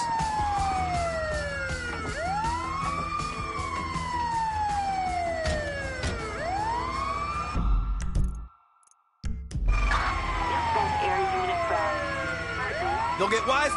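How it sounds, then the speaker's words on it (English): Video game ambulance siren on PS4, loud rising and falling wails that repeat steadily, cut off for about a second, then resume, with voices audible over it. "Oh, it's the ambulance!"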